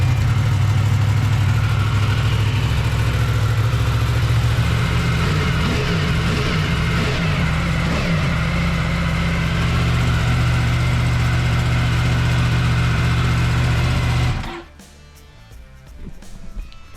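A Yamaha R1 sport motorcycle engine runs loud and close at a steady idle with a deep, throbbing low rumble, then cuts off abruptly near the end, leaving quiet background noise.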